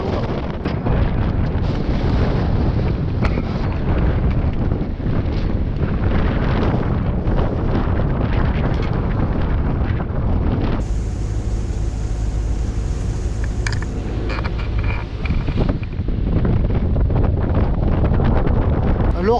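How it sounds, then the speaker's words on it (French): Strong, steady wind of about 30 knots roars across the microphone on a sailboat in the Atlantic, a continuous heavy rush with a deeper rumbling stretch partway through. "Alors que le vent est balèze quand même, il souffle et en plein dans le pif"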